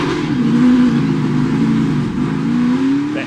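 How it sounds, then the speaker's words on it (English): A NASCAR stock car engine revs hard and loud under careful clutch work out of a pit stop, pitch rising and falling in steady surges as it fights for rear tire grip, with no talk over it. "Now listen to the work Chase does with the clutch to try to get these rear tires to hook up"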